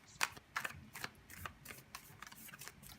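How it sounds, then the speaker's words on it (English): Tarot cards are shuffled close up in soft, rapid riffles and flicks, a quick irregular patter of papery snaps over three seconds with no talk. "I'm going to shuffle a little bit more"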